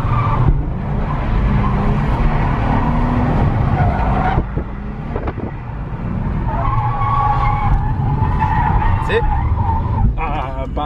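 Nissan 350Z drifting at a drift driving experience, engine roaring steadily with long tyre skids and squeals throughout, loud and close, while an instructor talks over it.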